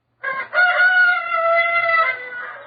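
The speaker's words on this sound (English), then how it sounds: "This is Gamaliel the rooster." Gamaliel the rooster gives a single loud, close crow, a brief rising note followed by a long sustained harmonic call, heard alone.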